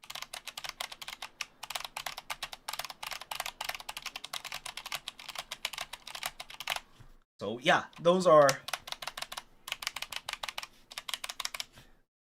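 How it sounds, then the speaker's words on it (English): An old, unmodified mechanical gaming keyboard clacks under rapid, continuous typing close up, keys rattling in a busy uneven stream, briefly broken by a short burst of speech before typing resumes. "this is an old gaming keyboard that I have not modified whatsoever"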